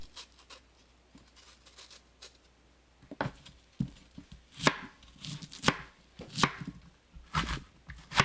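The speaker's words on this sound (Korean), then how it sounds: "배 반 개를 껍질 벗겨 썰어 주세요." A knife cuts through a peeled pear on a board, sparse light taps at first, then a denser run of crisp slicing chops, close and quiet with no voices.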